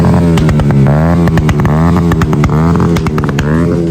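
A heavy motorbike engine revs loudly and continuously at an auto show in Bahawalpur, throttle rising and falling in repeated bursts, close by, with no talk over it.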